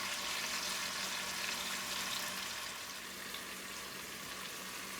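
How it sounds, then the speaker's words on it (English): Short ribs sear in a hot pan, a dense, continuous sizzle and hiss that holds steady and close throughout. "As you see, I'm browning up, searing up all my ribs."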